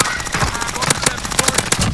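Rapid automatic gunfire in Call of Duty Warzone on the Verdansk map, loud, close and sustained in dense bursts of sharp cracks throughout, with no pause.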